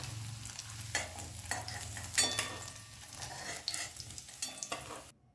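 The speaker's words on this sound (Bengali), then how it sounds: "বাকি পনিরের টুকরোগুলো ভেজে নেব।" Paneer pieces frying in mustard oil in a kadai, steady sizzling broken by repeated scrapes and clinks of a spatula turning them, close up.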